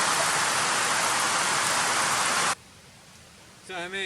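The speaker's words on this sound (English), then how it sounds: "I said it was going to rain," Steady, dense rain pours down outdoors as a loud, even hiss for about two and a half seconds, then cuts off abruptly into near quiet before a voice briefly speaks at the end.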